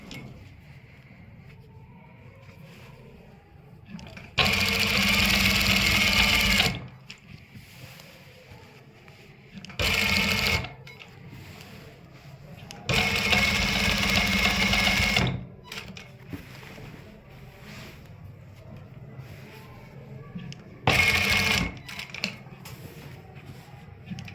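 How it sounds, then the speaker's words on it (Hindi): A sewing machine stitches a waistcoat-style pocket in several separate bursts, two longer runs and two short ones, loud and close with quiet pauses between. "फिर इसी लाइन के ऊपर सिलाई लगानी है।"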